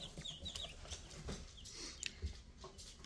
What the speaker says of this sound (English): They're just freaking chickens, but they're black.